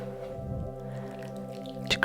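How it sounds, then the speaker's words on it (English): Wet, squishy dripping sounds as cleanser is worked with warm water into a lather on a client's neck during a facial, soft and close with steady background hum and a brief louder splash near the end. "Mixing with some warm water"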